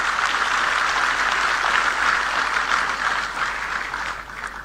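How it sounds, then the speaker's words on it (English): Steady applause from a sizable crowd at a facility inauguration in Amaravati fills the space, dense and even, tapering slightly near the end. "Give a big applause for our SRM team."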